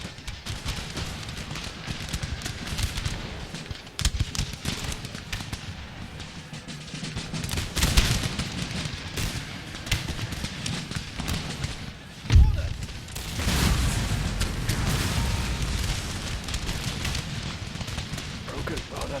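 Musket volley fire on a battlefield in the Empire Total War video game, several loud crackling volleys with a deep thud near the middle over constant battle noise, with someone talking over it.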